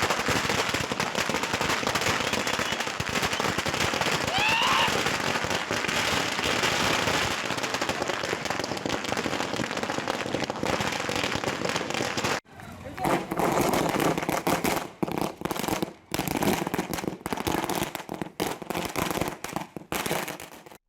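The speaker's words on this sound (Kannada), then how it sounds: "ಬೆಂಬಲಿಗರು ಪಟಾಕಿ ಹಚ್ಚಿ" Firecrackers burst in a celebration by political supporters in Bagepalli, Chikkaballapur district, as a dense, continuous crackle of loud pops, followed by scattered sharper bangs with short gaps.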